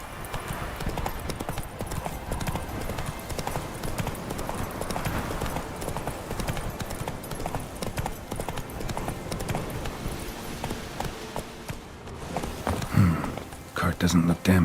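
Geralt's horse Roach trotting in The Witcher 3, steady hoof clip-clops running continuously at moderate loudness under game music and ambience, with a voice briefly speaking near the end.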